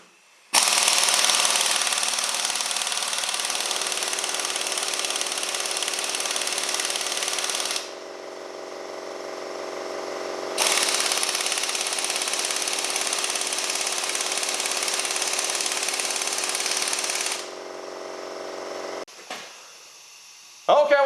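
A compact Urceri impact wrench runs in reverse on setting 3 against bolts, hammering loudly in two long sustained bursts with a short gap between, close up.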